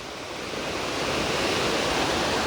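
White Oak Falls pours in a continuous, hissing rush of water, swelling slightly at the start and then holding steady and fairly close, with no voices.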